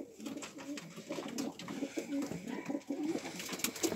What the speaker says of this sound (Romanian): Acest video este unul să vă arăt ce mai fac porumbeii mei.